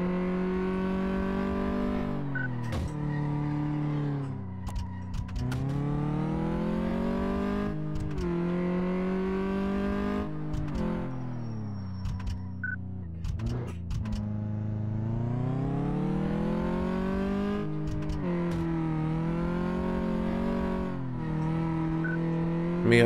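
A car in Car Mechanic Simulator running hard on the test track, its engine revving up and down through repeated gear shifts with occasional tire squeal, loud and continuous throughout.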